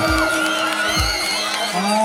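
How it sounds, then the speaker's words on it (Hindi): An audience at a cultural dance festival cheers and whoops for a winning dance team, loud and continuous crowd noise under music, with a few rising shouts. "उत्तराखंड को जोरदार ताली से स्वागत करें जाए"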